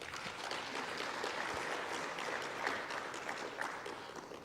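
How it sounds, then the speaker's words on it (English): An audience at a bioeconomy fair applauds itself, a steady, even wash of clapping from many hands that carries on throughout at moderate volume, with no talk over it. "Please clap for yourself."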